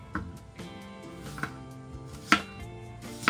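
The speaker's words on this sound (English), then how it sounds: "I'm peeling 3 onions and cut them in half moon slices." A knife cuts three peeled onions into half-moon slices on a board, with sharp chops landing at an irregular pace, close and fairly quiet, a couple of strikes standing out louder.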